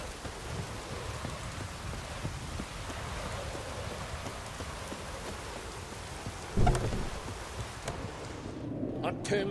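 Heavy rain pours steadily in The Witcher 3, a dense wash of downpour with a sharp thunder crack near the end, faint speech-like sounds mixed in.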